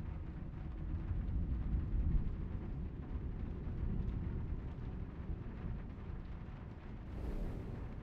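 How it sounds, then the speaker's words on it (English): Thunderstorm with rain in The Room 4: a steady low rumbling roar of downpour and distant rolling thunder throughout, dense and continuous with no distinct breaks, moderately quiet. "No, it's not just rain, it's storm."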